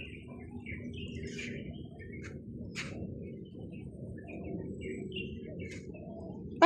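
Pigeons coo and chirp in the background, with soft low cooing and scattered brief higher calls over a steady outdoor murmur at moderate distance.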